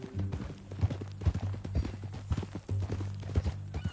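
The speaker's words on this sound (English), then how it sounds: "That a new horse?" Horse hooves clip-clop at a steady walking rhythm in Red Dead Redemption 2, close and even, over a continuous musical background.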